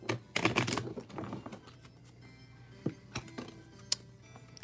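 A deck of Pokemon trading cards shuffled by hand during a card livestream, giving a burst of dense papery riffling clicks early on, then scattered sharper taps and flicks, fairly close and moderately loud.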